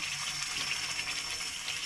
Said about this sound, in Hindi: तो हम हाफ कप इसमें डालेंगे पानी